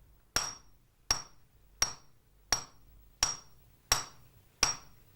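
A swordsmith hammers a plain iron rod down to a sharp point, seven evenly spaced, loud ringing metal strikes about two-thirds of a second apart, each with a bright clink and brief decay, no talking.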